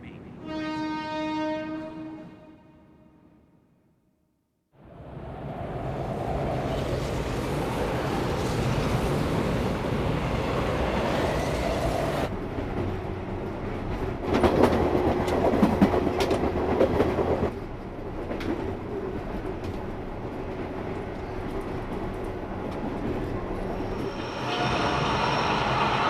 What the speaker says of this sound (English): The Ashikaga Maebashi line, headed for Takasaki, is arriving at Platform 8.